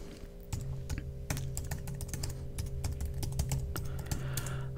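Someone types an email address on a computer keyboard, producing a quick, close, irregular patter of key clicks over a steady low hum, with no one speaking.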